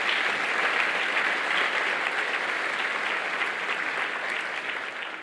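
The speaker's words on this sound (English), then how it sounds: "Let's please give them a round of applause as well." A seated audience at an educational panel gives a round of applause for committee members, a broad, even wash of many clapping hands that holds steady and thins slightly toward the end.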